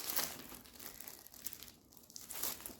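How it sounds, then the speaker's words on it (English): Plastic packaging of a cross-stitch kit crinkles and rustles in short bursts, close and quiet, with no talking over it. "sorry, crinkling"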